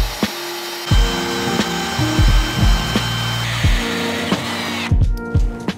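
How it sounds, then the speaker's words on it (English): Riv nut being set into a metal tube on a junk car build for mounting tabs, heard as a run of close, loud tool whirs and clunks with short pauses between strokes, no talk. "I'm gonna riv nut to the tube here for mounting the tabs."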